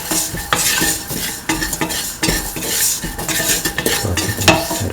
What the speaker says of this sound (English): Saute this thoroughly. Keep on sauteing.